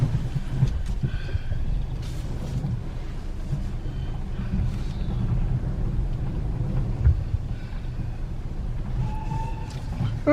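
A heritage train on the West Somerset Railway passes by: a steady, heavy low rumble with a few metallic squeals, loud and sustained throughout.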